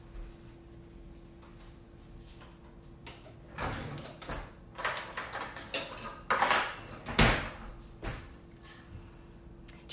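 A fork scrapes and taps against a bowl while mixing chocolate keto cookie dough, starting quietly and building into a cluster of close, irregular clinks and scraping strokes midway.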